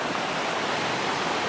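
Rapids on Huckleberry Creek rush in a dense, even roar of churning water, steady and fairly loud throughout, with no voices over it.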